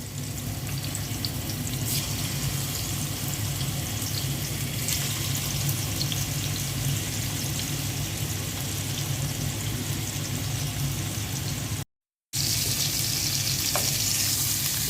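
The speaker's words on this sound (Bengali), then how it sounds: "তেল দিয়ে দিচ্ছি, মাছটা ভেজে নেব। মাছটা দিয়ে দিচ্ছি, তেলটা গরম হয়ে গেছে।" Fish frying in hot oil in a pot crackles and sizzles loudly and continuously, a close, dense hiss that stops for a split second and then resumes just as strongly.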